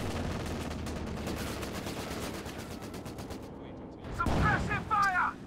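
Machine gun bursts and tank cannon fire from a World War II tank game, with a Comet tank in the fight: a steady dense rattle of gunfire throughout, then louder crashing blasts near the end.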